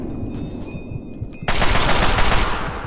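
Automatic gunfire in the Fallout 3 video game: softer rattling and game sounds, then a loud, dense burst of rapid shots that bursts in halfway through and keeps going to the end, with no talk.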